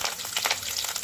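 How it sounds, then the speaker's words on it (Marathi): Hot tempering of mustard seeds, cumin, chillies and curry leaves sizzles over an onion-tomato chutney: a close, dense crackling hiss with rapid popping bursts, loud and continuous, no voices. "फोडणी घालायची चटणीवर"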